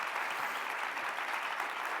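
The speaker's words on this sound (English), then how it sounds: "let's give Ileana Musa a round of applause" Steady applause from a seminar audience thanking guest speaker Ileana Musa, a dense even wash of many hands clapping at once with no voices over it.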